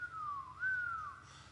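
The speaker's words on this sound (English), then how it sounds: "Often you might go out into a wind project and hear a whistling blade." A wind turbine blade with a blunt trailing edge gives off a faint thin whistle, a sustained tone that dips and then rises again over a quiet low hum.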